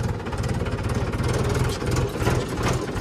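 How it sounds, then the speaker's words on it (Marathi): A tractor engine that jerks when the clutch is released runs close by with a steady, low throbbing beat and a rapid pulsing rhythm. It continues for about three seconds with no voices. "त्या रेसला जर आपण क्लच सोडला तर पाहू शकता की ट्रॅक्टर जो आहे तर तो झटके मारत चालतो."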